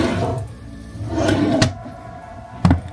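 A drawer in a cruise ship cabin slides and knocks shut nearby, a soft rolling scrape followed by a couple of sharp wooden thuds.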